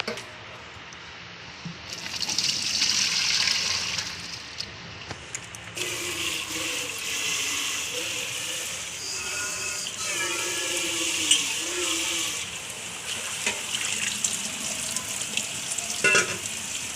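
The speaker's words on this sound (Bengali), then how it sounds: "এবার এইগুলো আলু আর মোচা ভালোভাবে ধুয়ে নেব। ভালো করে ধুয়ে জলটা ঝরিয়ে নেব।" Potatoes and banana flower are rinsed under running water in a village kitchen, with steady splashing and gushing throughout, swelling louder after a few seconds, plus intermittent sloshing and handling sounds; no talk.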